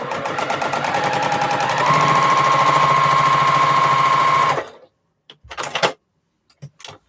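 A sewing machine stitches a quilt block seam in a fast, even whir of needle strokes for about four seconds, then stops, followed by a few brief clicks and handling taps.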